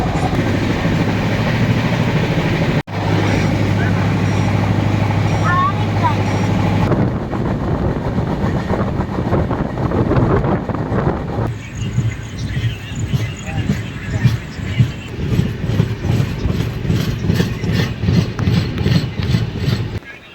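Darjeeling Mail passenger train on the Kolkata to Darjeeling route running at speed, a loud continuous rumble with rhythmic wheel clatter throughout, shifting in tone partway as the track changes, with occasional faint voices in the carriage.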